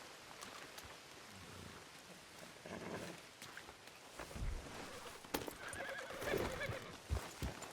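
In Red Dead Redemption 2, a horse whinnies and snorts amid clip-clopping hooves, the calls rising in bursts over a low outdoor ambience, with no voices.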